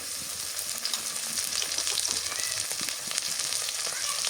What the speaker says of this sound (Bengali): রসুন বাটা দিয়ে দিই আর দিয়ে দিই পেঁয়াজ বাটা